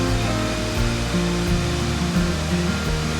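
Waterfall in Alaska roaring steadily nearby, a dense, continuous rush of falling water with a low rumble underneath, loud and unbroken with no voices.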